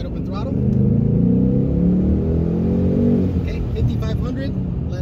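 A Vortech supercharged 2019 Mustang GT pulls hard in second gear at wide open throttle, a loud, close, steady engine roar with rising harmonics for about three seconds before easing off into a lower rumble.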